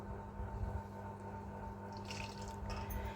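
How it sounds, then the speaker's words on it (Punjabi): Homemade sharbat being poured into a bowl, a soft liquid trickle and splash that builds in the second half over a steady low background hum. "ਮੈਂ ਥੋੜਾ ਜਿਹਾ ਕੌਲੇ ਵਿੱਚ ਕੱਢ ਦਿੰਨੀ"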